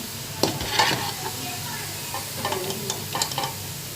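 Sliced onions sizzle and fry in a pot of hot oil for chicken biryani, with a steady hiss and several sharp bursts of stirring and scraping close by, and no voices.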